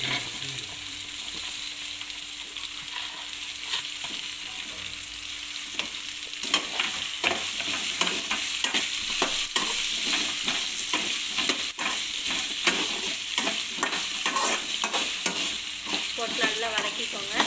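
Chopped potatoes stir-fried in a pan for a leftover potato rice dish: a steady sizzle, soft at first, then joined by frequent scraping stirs of the spatula, with no talk.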